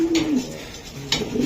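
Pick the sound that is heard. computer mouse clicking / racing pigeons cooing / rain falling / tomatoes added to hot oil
racing pigeons cooing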